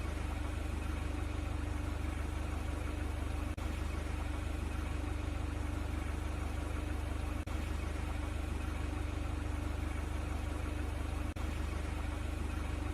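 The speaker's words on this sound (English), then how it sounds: "Then use fork gear to lift the load." A forklift engine drones steadily and loudly in a virtual reality warehouse training simulator as the forks raise a load, a continuous low engine hum with faint periodic clicks and no talking.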